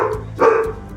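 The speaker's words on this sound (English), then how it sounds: "There goes my dogs. It's because their daddy's home." House dogs give a couple of quick, sharp barks nearby indoors, loud and brief.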